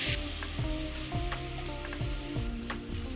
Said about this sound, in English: We caramelize this bacon in the maple syrup and add the bacon